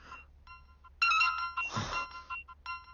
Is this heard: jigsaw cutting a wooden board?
no